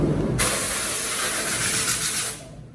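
A CNC-milled workpiece is sprayed in a milling training workshop, a loud, steady, bright hiss of air or coolant lasting about two seconds before it stops, over a low machine rumble.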